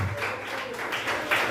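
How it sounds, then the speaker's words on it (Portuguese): A church congregation applauds in a steady wash of clapping that stays even for under two seconds, with a faint voice beneath it. "Palmas e glória a Deus."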